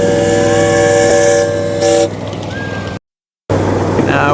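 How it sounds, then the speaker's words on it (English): A miniature passenger train runs along its track loop in a park in Port Orchard, giving a loud, steady rumble of wheels on rails with a brief whistle-like tone, then a short drop to silence before the rolling noise returns. "Now we're switching on to the inner track."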